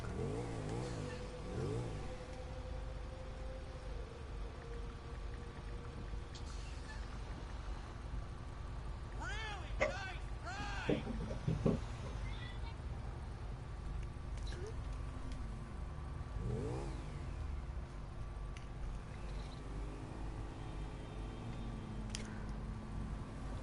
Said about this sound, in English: we're just gonna cruise about on this motorbike